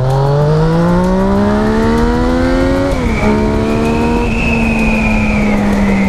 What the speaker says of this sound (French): Un petit démarrage en côte avec une grosse accélération.